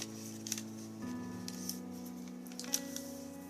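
A square of paper is folded corner to corner into a triangle for a water origami flower craft: soft, quiet crinkles and crisp creasing clicks over a faint steady hum.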